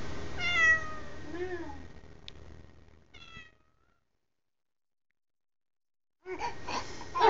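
A kitten gives several rising meows, then a sharp chirp and a final mew, followed by silence and then muffled rustling and movement near the end.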